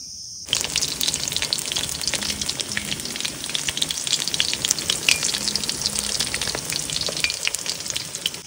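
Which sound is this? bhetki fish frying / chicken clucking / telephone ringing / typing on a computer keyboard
bhetki fish frying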